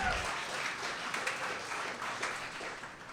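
An audience at a green building industry event claps, a soft, distant wash of applause holding steady for a few seconds.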